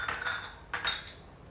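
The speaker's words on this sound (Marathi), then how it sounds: "आता मी यात 2 चमचे धने घालते।" Coriander seeds dropped into a hot, dry kadhai after roasting dal, giving two short rattling, clinking bursts of seeds on metal, close and fairly quiet, with no talking.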